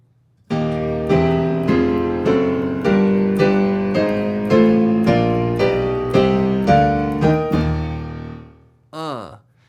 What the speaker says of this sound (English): Today I'm going to show you this slick little walk-up.